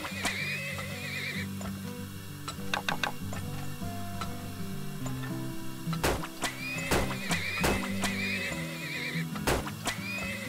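Horses neigh and whinny repeatedly in the video game Turmoil, with clip-clop hooves and ticking game sounds under layered background music; several loud whinnies stand out.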